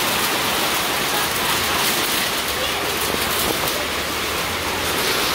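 Heavy rainstorm water pours down outside a home kitchen, a dense, steady roar of falling water that stays loud and unbroken from start to finish.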